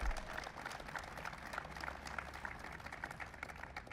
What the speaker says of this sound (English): you can clap for our teams